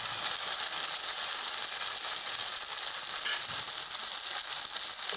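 Sliced onions frying in a pan with chili, ginger and cumin paste for a fish curry, a steady close hiss of sizzling oil with faint scraping from stirring, no voices.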